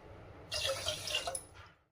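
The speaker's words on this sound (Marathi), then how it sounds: "ज्या वाटीने आपण तांदूळ घेतले त्या वाटीच्या मापानुसार 2 वाट्या पाणी टाकून घ्यायचे" Water is poured into a pressure cooker holding washed rice, two bowlfuls measured out, a close splashing stream that runs for about a second and then tapers off.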